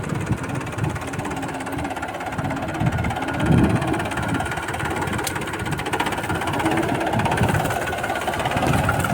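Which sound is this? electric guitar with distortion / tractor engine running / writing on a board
tractor engine running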